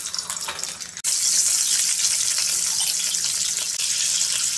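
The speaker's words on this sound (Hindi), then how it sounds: "यही कढ़ाई में मैं अंडा फ्राई कर लेती" An egg fries in a kadhai, a steady bright sizzle that jumps louder after a brief dip and then holds as an even, close hiss with no talking over it.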